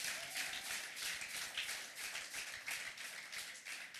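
Church congregation clapping in praise to God, a faint, fairly distant patter of many hands beating in loose rhythm throughout.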